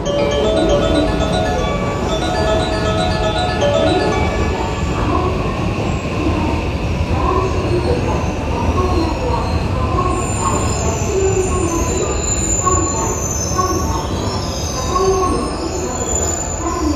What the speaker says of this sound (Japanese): 4番乗り場電車が入ります